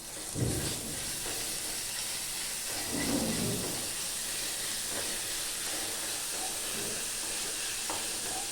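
Ginger garlic paste fries in a pan for butter paneer, a continuous close sizzle and hiss broken by a few louder scraping stirs, with no one speaking.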